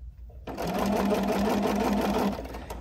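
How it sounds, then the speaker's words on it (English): A sewing machine starts up and runs at a steady fast whir for about two seconds, stitching a quilt block, loud and close with a faint low hum before it begins. "And we're gonna sew this. So I'm gonna get it started."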